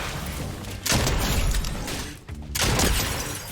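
Gunfire in Fortnite arena play: loud shots with sharp cracks and booms, two heavy bursts roughly a second and a half apart over continuous game noise, no talking.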